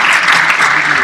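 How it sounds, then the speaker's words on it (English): An audience at a Model UN opening ceremony in Tanzania claps in a dense, steady burst of applause that fills the short moment. "a very big round of applause to our coordinator, Mr. Philemon Monekwa."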